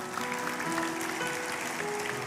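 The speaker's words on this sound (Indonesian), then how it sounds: "kasih tepuk tangan bagi Tuhan kita" Congregation applauding at a church sermon, a steady, dense wash of clapping across the hall with sustained tones underneath, like a keyboard held in the background.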